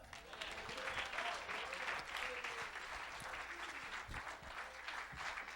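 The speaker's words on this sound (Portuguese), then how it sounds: "Aplauda ao Senhor" Church congregation applauding during a sermon, a steady, moderately distant wash of many hands clapping that continues evenly throughout.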